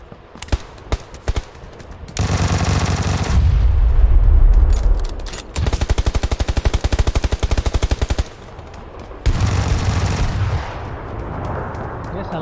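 Rapid bursts of automatic gunfire rattle through a PUBG Lite team deathmatch, several sustained volleys separated by short gaps and single sharp shots, loud and close.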